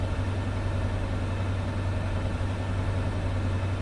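Ford Trimotor radial engines throttled back to low power in a flight simulator game, a steady, even droning hum with a strong low tone and no variation, heard alone without talk.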